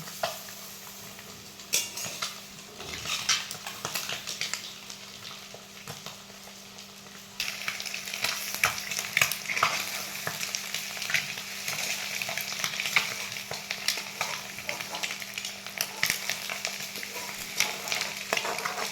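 Eggs frying with red chili powder and salt for a dhaba-style egg masala sizzle steadily in a pan, with a scrape and clatter as they are flipped, after which the frying turns louder and brighter and carries on with utensil taps.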